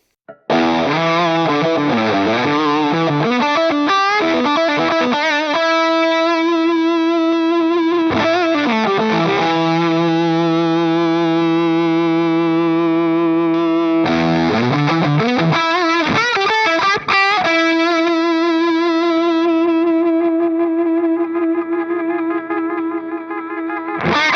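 Electric guitar through a Hermida Audio Zen Drive overdrive pedal model at stock settings, sustained distorted chords and notes ringing out loud and close, with brief pauses and no voices.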